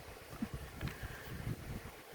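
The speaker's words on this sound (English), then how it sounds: "oops, bit of a gust" Wind gusts buffet a microphone outdoors beside a camper van, giving uneven low thumps and rumbling bursts over about two seconds, fairly close and muffled.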